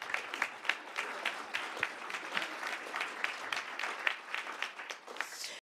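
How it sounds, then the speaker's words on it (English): Audience applause for a panel of speakers at a conference, a dense steady wash of many hands clapping throughout, moderately distant with a slight swell near the end. "I think they deserve a row of applause"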